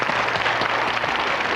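A television studio audience applauds loudly and densely, a continuous wash of clapping that fills the whole moment with no voices over it.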